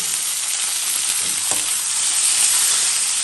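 Tomatoes for a plain tomato chutney, made without peanuts, fry in a pan, giving a steady close hiss while being stirred, with one brief scrape of the spoon partway through.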